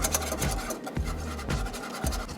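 A whisk scrapes rhythmically around a pan of thickening sauce on a grill's open searing plate over direct flame, steady strokes repeating about every half second, close and fairly quiet.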